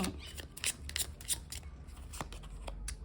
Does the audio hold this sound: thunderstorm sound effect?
no